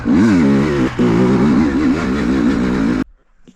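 A motorcycle engine revving and humming up close on a mountain road in Romania, its pitch wobbling as the throttle changes, then abruptly cutting off.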